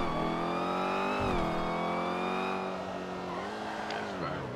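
Supercharged car engine in a Grand Theft Auto roleplay drag race in Los Santos, revving with a steady rising and falling whine for several seconds, loud and close, with faint voices underneath.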